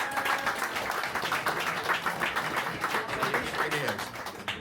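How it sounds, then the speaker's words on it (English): A party crowd at a birthday bash breaks into applause and cheers for a guest called Johnny as he comes up, steady clapping filling the room over about four and a half seconds, with voices mixed in. "Let's cheer it for Johnny here."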